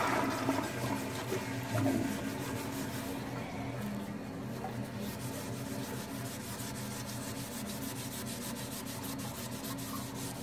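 A toilet flushing plays as a steady, fairly faint rush of water that keeps going for several seconds, with no voices over it.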